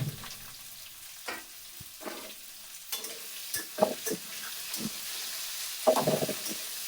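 Sliced onions and green chilies fry in a pan, with a soft continuous sizzle under repeated scraping and stirring strokes from a spatula, close and irregular, with no talking.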